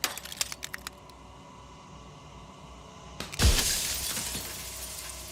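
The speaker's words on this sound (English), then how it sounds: "the super loud glass cracks" Glass cracking in the video game Slay the Princess, heard as one sudden loud shattering crack followed by a lingering crackling spread, after a few faint ticks in near quiet.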